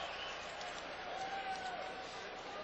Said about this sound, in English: a little ridicule cheer here as it's posted